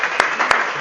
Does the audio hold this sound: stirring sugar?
no